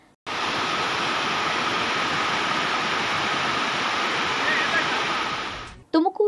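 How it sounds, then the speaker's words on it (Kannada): Water overflowing from the Srinivasa Sagar reservoir during heavy rain, a loud, dense, unbroken roar of cascading water for several seconds, ending abruptly with a short burst of voice. "ಶ್ರೀನಿವಾಸ ಸಾಗರ ಜಲಾಶಯ ಕೋಡಿ ಬಿದ್ದಿದೆ."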